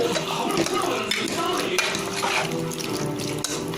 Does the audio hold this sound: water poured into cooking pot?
yes